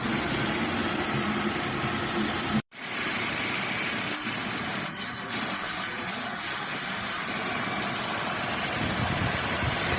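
A car engine idles steadily after a jump start, a constant close rumble that cuts out for a split second near the start and then carries on evenly, with no talking.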